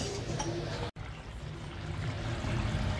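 Water pours into chickpea and cashew gravy in a pan, a steady soft liquid wash with faint sloshing, close and continuous after a brief cut near the start, with no talking.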